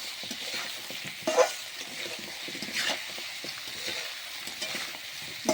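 Bottle gourd and chicken skin fry together in a pan, giving a steady soft sizzle broken by occasional sharp scraping clicks of stirring, fairly close and even in level, with no voices.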